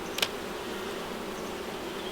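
Honey bees buzzing around an open hive as frames are handled, a steady, even drone with a brief knock near the start.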